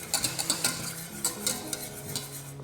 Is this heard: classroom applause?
no